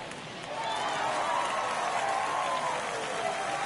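Stadium crowd in the baseball video game MLB The Show 24 swells into a loud, sustained roar and applause after a home run, rising within the first half second and holding steady to the end.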